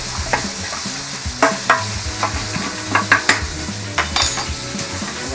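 Mushrooms tossed with garlic powder and salt in a pan, steady sizzling under irregular scraping and stirring clinks of a utensil against the cookware, close and fairly loud.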